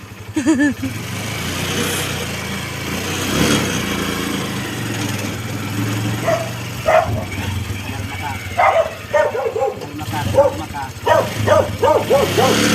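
A dog barks repeatedly in short bursts, fairly close, with people talking around it and an engine idling in the background.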